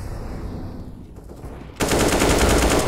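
Sustained burst of rapid automatic gunfire in a video game, cutting in loudly and continuing steadily after a quieter ambient stretch.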